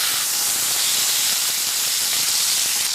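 A roast beef sears in a hot pan, giving a steady, loud, close sizzling hiss with no pauses.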